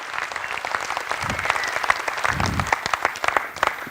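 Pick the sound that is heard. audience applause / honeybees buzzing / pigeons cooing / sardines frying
audience applause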